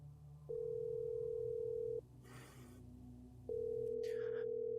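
Two long steady telephone tones sound on a phone call, each lasting about a second and a half, separated by a short gap with a brief burst of noise and then a faint chirp.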